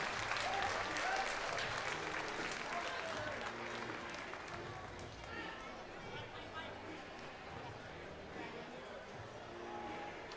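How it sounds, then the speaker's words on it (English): Crowd applause fills the air at a sheep shearing competition at the Balmoral Show, a dense, steady wash of clapping that stays loud throughout and eases slightly toward the end, with some crowd murmur beneath. "Give them all a big round of applause"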